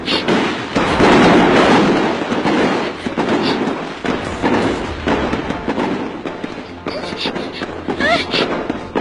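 Gunfire in a Chinese drama series: dense, booming volleys of shots and thuds, heaviest at the start, followed by scattered sharper bursts and a few ricochet-like pings amid the battle noise.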